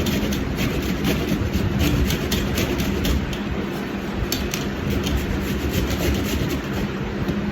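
Carrots are grated by hand for carrot halwa, making a continuous, steady rasping scrape close up, loud and even, without pauses and with no talking.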